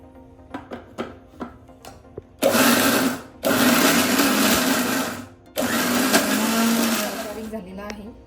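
A kitchen blender grinds coriander, mint and finely chopped garlic into a paste for mushroom masala, running in loud whirring bursts of a few seconds each with brief pauses between, after some light taps and clatter at the start.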